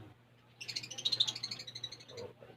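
Lovebird chirping close by, a quick run of bright, rapid tweets lasting about a second and a half over a low steady hum.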